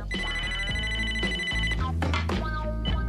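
A telephone bell rings loudly in a home, one long ring and then shorter bursts, with knocks and bumps as it is picked up.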